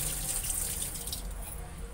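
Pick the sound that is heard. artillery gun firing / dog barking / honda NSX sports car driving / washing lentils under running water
washing lentils under running water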